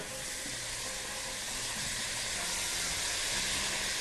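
Minced garlic sizzles in a hot pan while Egyptian koshari is being prepared, a steady broadband frying hiss that holds evenly throughout with no talk over it.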